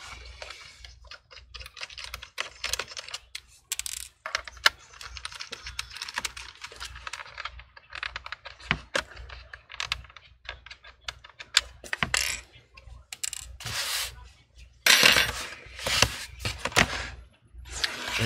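Phillips screwdriver, size 1.5, backing screws out of the bottom panel of an HP Laptop 14 with a swollen battery. Close, dense clicking and small metallic ticks run steadily throughout, with sharper bursts near the end.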